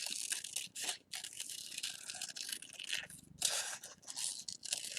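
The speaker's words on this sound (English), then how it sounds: "And then I'm going to cut it out." Scissors snip and crunch through paper while a heart shape is cut out for a pop-up valentine, steady close cutting strokes with brief pauses and a softer crinkle near the middle.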